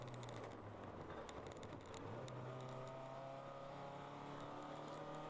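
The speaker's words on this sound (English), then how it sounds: "Sounds like he might have another car trying to come around him." Race cars on the track during a ChampCar endurance race at Road America, engines droning and revving steadily with gear changes and another car close behind, loud and continuous from inside the cockpit.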